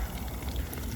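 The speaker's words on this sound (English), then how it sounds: "let me run it just to get some water through there first" Water runs steadily from an outdoor tap at a dog park, a dense continuous splashing hiss heard up close with no voices.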